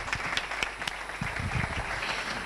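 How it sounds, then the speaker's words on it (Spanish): A short burst of applause from a television gala audience, steady clapping that fills the whole moment at moderate volume. "Un fuerte aplauso."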